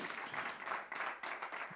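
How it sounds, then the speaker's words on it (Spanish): A hall audience at a radio station's special broadcast, a compilation CD launch, claps in a soft, steady wash that holds through the whole moment with no voices. "un fuerte aplauso"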